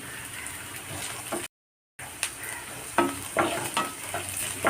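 Green chilies, garlic and ginger fry in a pan with a close, crackling sizzle and bursts of stirring scrapes. The sound cuts out briefly partway through, then returns livelier.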